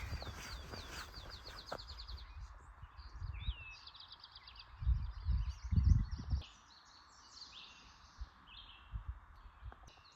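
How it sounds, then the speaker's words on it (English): Birdsong chirps and trills sound through quiet woods on the Appalachian Trail, with soft thumps and rustling nearby and no voices. "You hear all the birds singing."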